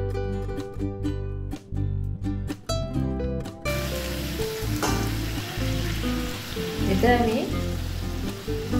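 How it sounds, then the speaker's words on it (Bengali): Moong dal hits hot oil and sizzles loudly up close, the frying hiss settling into a steady crackle with stirring scrapes, while a voice speaks briefly over it. "এবার এতে আমি মুগ ডালটা ছেড়ে দিচ্ছি।"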